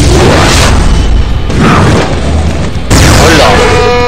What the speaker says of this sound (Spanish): Encima se escuchan todos los petardos.